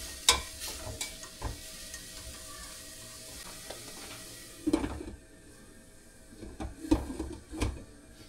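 Ampalaya (bitter gourd) being stir-fried with egg in a pan: scraping stirs and clacks of a utensil over a low steady sizzle, with a few louder knocks midway and near the end.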